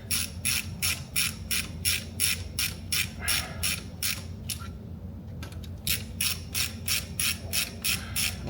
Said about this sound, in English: what we're going to start doing is walking the head down, just only a couple of turns at a time on each bolt